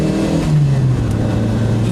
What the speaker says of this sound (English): So you can rev it.